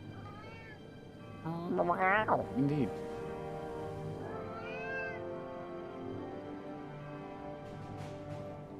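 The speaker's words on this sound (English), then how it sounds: "Cat!" A cat in the point-and-click adventure game Foolish Mortals gives a drawn-out, wavering meow, then a softer second mew, over a quiet ambient music bed, with a brief spoken word.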